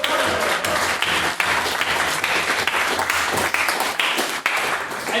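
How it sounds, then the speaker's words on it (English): Sustained applause from a debate audience fills the room, a dense, steady wash of many hands clapping at close range with no break for the whole stretch. "Let's posthumously give Miss Carberry O'Neill a big round of applause."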